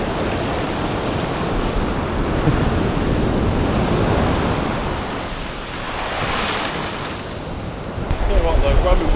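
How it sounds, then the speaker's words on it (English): Big ocean waves roll and crash on a Cape Verde beach, a loud, close, continuous surf roar mixed with wind buffeting the microphone, with a brief swell of noise near the end. "the waves are big."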